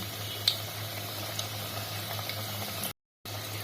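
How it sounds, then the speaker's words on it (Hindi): Cone sevi rolls coated in maida gently frying in refined oil, giving a steady low bubbling sizzle with occasional small pops, broken by a brief moment of total silence near the end. "उसमें रिफाइंड डाला और ये कोन हमारे जो लिपट गए हैं पूरे मैदा में, रोल में, उनको दोनों को धीमे धीमे डाल देंगे"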